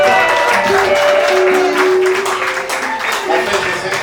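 Wedding guests applaud in a burst of clapping that fades slightly, mixed with voices and cheering from the crowd.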